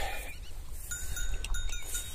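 Faint cowbells clink and ring a few times from cows grazing in a misty field at an early morning feed, soft and fairly distant over a quiet outdoor hush.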